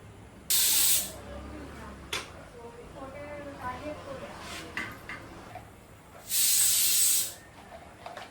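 Ghee hitting a hot pan while making payesh, two loud bursts of hissing spatter, one near the start and one near the end, with quieter crackles and clinks in between.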